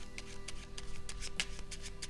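Playing cards being shuffled during close-up card magic practice, a series of soft, evenly spaced riffling bursts heard alone at close range.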